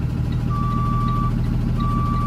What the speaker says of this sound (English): So up here, if I put the bus into reverse,